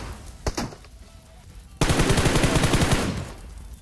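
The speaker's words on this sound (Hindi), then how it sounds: "अब जैसे मैं फायर करता हूँ तभी उसका टीममेट क्लोज आ चुका है जो कि हम लोग को राइट से फायर करता है" Gunfire in the mobile battle royale game PUBG Mobile: a couple of isolated distant shots, then a sudden loud burst of rapid automatic fire lasting over a second before fading into background game noise.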